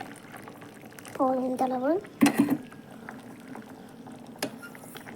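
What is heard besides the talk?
sambar with tamarind boiling in a pot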